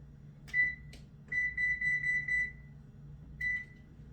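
An oven control panel beeps as the temperature is set to 325: a short beep, a quick tap, then a rapid string of about seven beeps, a pause, and one more beep, all clear against a quiet kitchen hum.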